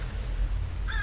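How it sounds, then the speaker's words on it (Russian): A crow caws in the video game Hello Neighbor, a single harsh call near the end after a moment of low rumbling background, heard alone without speech. "Вот ворона это кричит."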